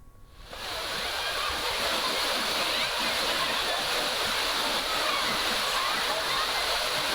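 Thirparappu waterfall roars as a loud, steady, close wash of falling water that swells up within the first half second and holds unbroken throughout.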